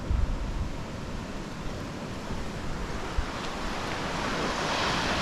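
Surf washing onto the beach at Fairlight Glen, Hastings, a steady broadband roar of breaking waves with wind buffeting the microphone, no voices.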